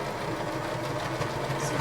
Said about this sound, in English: you're going to want to go ahead and give a generous back stitch